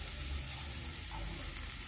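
Two medium onions sautéing in a pan give off a faint, steady sizzle, quiet and continuous with no talking.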